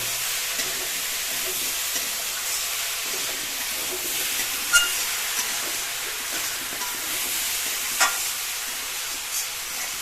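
Bottle gourd and lentil dumpling curry sizzles and hisses steadily in a pan, with a few sharp scrapes of stirring over the constant frying.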